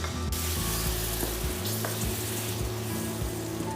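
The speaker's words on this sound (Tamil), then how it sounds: "தயிர் சேர்த்து நல்லா கிளறி விட்டுக்கலாம்." Curd being stirred into a potato masala in a hot pan, giving a steady, close sizzle with soft scraping stir strokes throughout and no talking.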